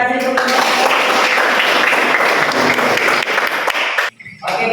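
A classroom group gives a presentation group a burst of dense, loud clapping for about four seconds before it cuts off abruptly, followed by a brief pause and a short voice.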